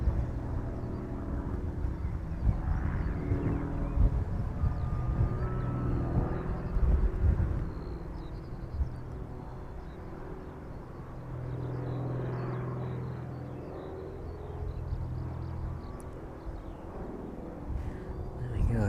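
Aircraft departing from runway 27 at East Midlands Airport, a broad, steady jet-engine roar rumbling at a distance throughout, gradually easing in loudness, with faint talking underneath at times.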